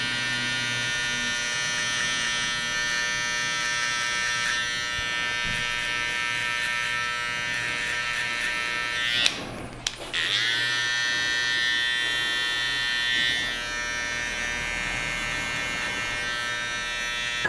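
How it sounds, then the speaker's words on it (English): Electric hair trimmers tidy the hair beneath a freshly cut line during a haircut. Their steady, close, high-pitched buzz runs throughout, with a short break in the middle where the blade touches or is lifted. "Moving on to our trimmers, our shortest trimmers as well, and just cleaning up all the hair underneath the 0 line that we've just created."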